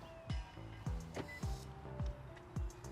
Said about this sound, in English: the power folding outside mirrors. So if we lock it,